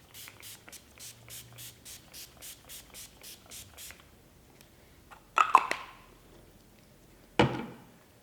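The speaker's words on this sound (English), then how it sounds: "So I'm going to give my face one final spray." Two short, hissing sprays of face mist, close and distinct, following a steady run of about a dozen soft rhythmic taps.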